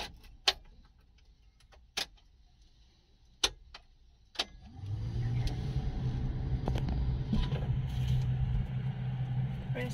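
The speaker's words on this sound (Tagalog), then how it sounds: "Turn on the engine." Manual transmission car engine starting: a few sharp clicks and taps, then the engine cranks and settles into a steady, moderately loud idle rumble.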